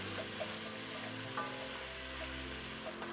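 Chicken sausage sizzles and fries in a pot over medium-high heat, a steady soft crackle with faint pops, fairly quiet and close with no talking.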